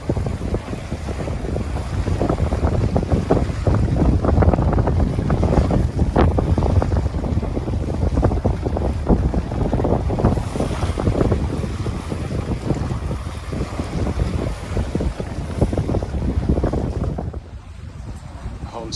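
Steady wind rushes and buffets around a Catalina 30 sailboat under sail on Lake Pend Oreille, with water washing along the hull, loud and continuous for the whole stretch before dropping off near the end.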